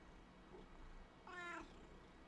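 A single clear cat meow rises briefly over a steady low background hum, fairly close and alone without talk.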